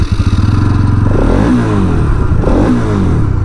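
A Bajaj Pulsar NS 200 motorcycle, a 2023 BS7 model, starts up with a brief cranking clatter, then settles into a loud, close engine idle with a couple of blips of revving.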